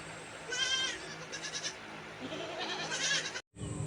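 Several young goats bleat in wavering, high-pitched cries, overlapping and close by, with a short gap near the end before another cry.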